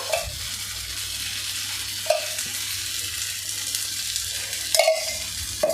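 Stuffed bitter gourds fry in a pan while oil is spooned over them. A steady crackling sizzle runs under a few sharp spoon taps against the pan. Close, with no speech.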